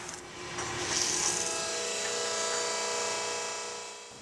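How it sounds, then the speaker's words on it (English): A record stamper is sanded on its backside, giving a steady, close abrasive whirr that swells slightly and holds for several seconds without speech. "After the stamper is trimmed, it is then sanded on its backside so that it operates correctly in the press."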